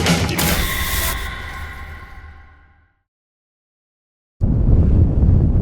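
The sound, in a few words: wind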